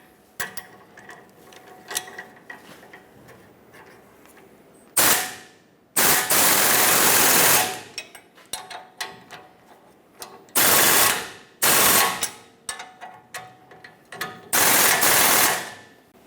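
Ratchet with an 18mm socket snugging clamp nuts during an outer tie rod replacement on a Ford E-350 Super Duty, heard as loud, close bursts of rapid clicking separated by quieter metallic handling.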